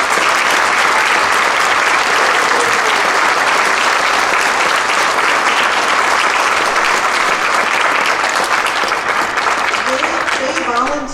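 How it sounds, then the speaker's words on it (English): A large audience at a school band's holiday concert gives a long, loud round of applause, dense and sustained throughout, with a few voices mixed into the crowd. "Would you give them a huge round of applause?"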